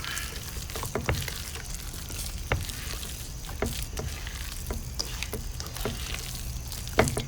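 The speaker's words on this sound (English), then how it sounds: "I'm going to add it and mix it." Ingredients for chicken cordon bleu are stirred together in a bowl, a soft, continuous mixing sound broken by irregular light clicks and taps, with no voices.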